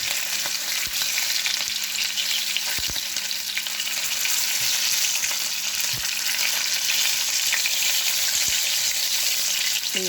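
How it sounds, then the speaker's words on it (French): Halved pieces fry briefly in oil left from cooking cod. A loud, constant close sizzle fills the pan, with occasional clicks of utensils and no voices. "Je les fais revenir à un court instant dans l'huile de la morue."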